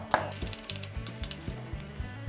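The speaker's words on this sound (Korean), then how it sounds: "다져서 파는 약간만 어슷어슷 썰어서" A kitchen knife chops minced garlic and slices green onion on a wooden cutting board, giving a steady run of close, crisp knocks about every quarter second with no voices.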